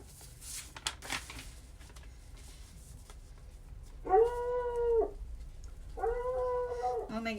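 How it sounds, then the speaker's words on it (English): Dog howling outside a window: after a few faint knocks, two drawn-out, wavering howls arrive about a second apart, moderately loud and slightly distant. "you probably hear my dog outside my window"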